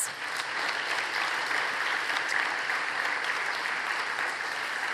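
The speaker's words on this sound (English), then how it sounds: "Let's give him another round of applause." Full-room audience applause at the WFAE EQUALibrium awards ceremony, steady and dense throughout, a crowd clapping continuously at moderate distance.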